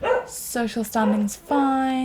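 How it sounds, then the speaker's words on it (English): Dogs in a room bark and whine in drawn-out, tonal bursts while someone talks over them. "And again, apologies for the dogs."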